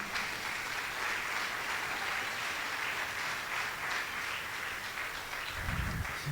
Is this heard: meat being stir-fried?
no